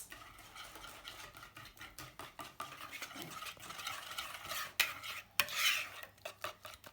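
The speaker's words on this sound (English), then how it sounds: "One final whisk to make sure that your mixture is really smooth" A whisk beats pancake batter in a bowl with quick rhythmic clicks and swishes against the sides, fairly quiet and close, ending in a couple of sharper taps with no one speaking.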